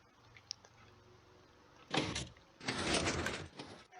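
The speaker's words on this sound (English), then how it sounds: "All right, elevator in motion, doors close" Elevator doors slide shut with a mechanical rumble, then the car moves with a longer whirring, rattling run, close and fairly loud after a quiet start.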